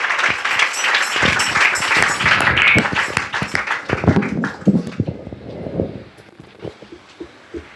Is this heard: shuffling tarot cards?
no